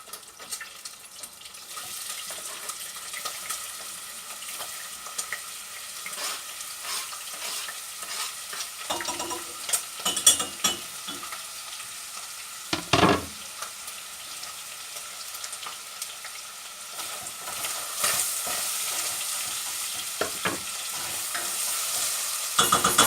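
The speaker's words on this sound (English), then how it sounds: "the meat is now getting browned off with the onion." Minced meat and chopped onion brown in a pan with a constant close sizzle, broken by scraping stirs and a few knocks of the utensil, the frying growing brighter and louder toward the end with no talking.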